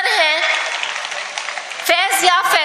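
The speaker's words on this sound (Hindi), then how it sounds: "जोरदार तालियां आप लोग बजाइए" Audience applause at an award ceremony during the Gunnaur Mushaira 2018, a dense wash of clapping that carries steadily through the moment, with a few sharp individual claps and faint voices mixed in near the end.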